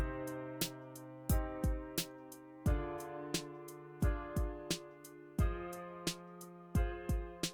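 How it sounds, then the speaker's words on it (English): Repeated piano chords struck in a steady rhythm, backed by a simple drum beat with punchy hits, all fairly loud and close. "I changed it to a piano."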